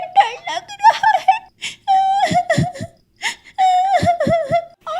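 A high-pitched voice whimpers and sobs in short, wavering cries, imitating a baby bird crying alone in its nest at night in a forest, loud and close; cartoon sound.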